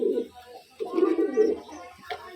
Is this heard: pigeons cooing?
yes